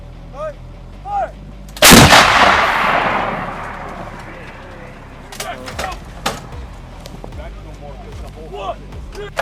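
Artillery fires at Russian tanks near Kherson: one loud, close blast with a long rumbling decay, followed by sharp distant reports, while soldiers shout over the fire.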